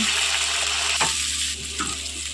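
Spices frying in a pan for a cauliflower chop recipe sizzle loudly and close, with a burst as a little water is added, the hiss continuing strongly throughout.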